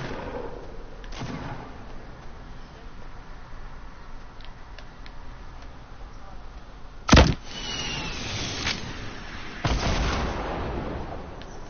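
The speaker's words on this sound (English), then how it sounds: "I hear a lot of shots" Video game gunfire rings out as a few sharp, scattered shots, one loud crack standing out midway and another burst near the end, over a low steady background.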